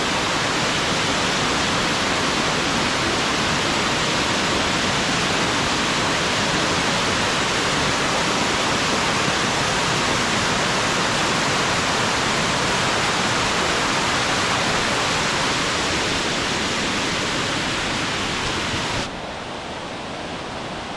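The Oliyaruk (Erappu) waterfall in Eroor, Anchal, Kollam, gives a loud, close, unbroken roar of rushing water. It holds steady for about twenty seconds and eases slightly at the very end.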